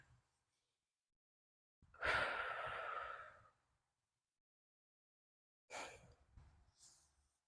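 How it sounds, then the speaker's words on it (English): Two deep breaths during a yoga stretch: a long, loud exhale lasting over a second, then after a pause a shorter breath, close to the microphone in a quiet room. "Take those deep breaths in, those heavy exhales help let us kind of sink our hips deeper"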